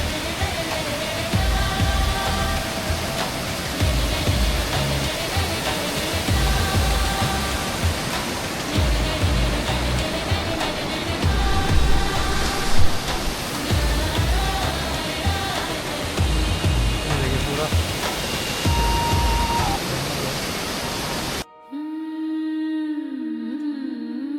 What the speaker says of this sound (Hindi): झरना जो है ये देखिए